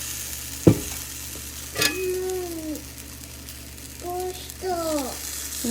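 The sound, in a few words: batter cooking in a pan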